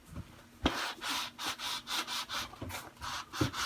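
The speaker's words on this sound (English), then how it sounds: "Because it's really easy to do with the big sanding block." A big sanding block rubbing along the fret edges of a wooden Mini-Strat guitar neck, steady back-and-forth scraping strokes in a regular rhythm, close and clear, with a sharp knock near the start.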